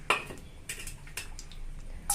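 Mustard seeds go into a hot pan for tempering, producing a few sharp clicks and crackling taps against the metal, spaced irregularly and close by.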